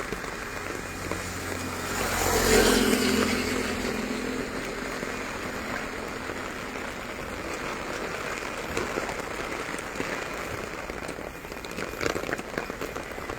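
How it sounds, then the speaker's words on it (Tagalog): Steady, dense heavy rain hisses across the whole clip at a construction site, swelling briefly louder early on, with a faint hum of traffic underneath. "lakas ang ulan guys."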